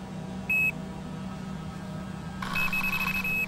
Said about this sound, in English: My two rods are each equipped with an electronic alarm, primed to go off if something makes a grab for the bait.